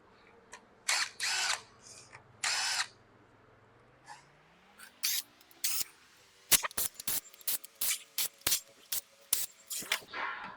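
A power tool works 8mm bolts on a Cummins ISB 6.7 diesel engine, with short bursts of whirring followed by a rapid series of sharp clicking hits, close and clear.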